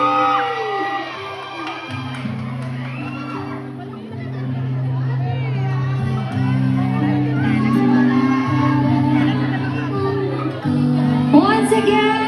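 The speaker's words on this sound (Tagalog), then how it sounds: "pwede bang makarinig ng pansigabong palakpakan at sigawan?" A red carpet premiere night crowd cheers and shouts with scattered clapping, a dense roar of excited voices and whoops under an amplified host's voice, with music playing beneath.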